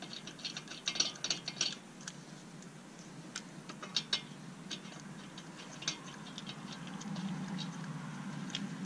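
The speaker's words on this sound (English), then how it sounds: "I'm just gonna go through and put on all the lug nuts" Ratchet tightening wheel lug nuts during a wheel stud replacement: a burst of quick ratcheting clicks in the first two seconds, then scattered sharper clicks over a steady low background hum, close by with no talking.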